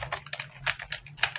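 Keys clack on a computer keyboard as Arduino code is typed, a quick irregular run of about eight close, crisp strokes with short gaps between them.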